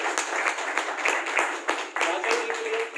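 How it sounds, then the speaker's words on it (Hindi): Audience clapping at a motivational talk as people are called up to the stage, brisk irregular claps forming continuous applause that stays fairly loud through the short stretch. "एक बार जोरदार तालियां विपिन संधू जी के लिए"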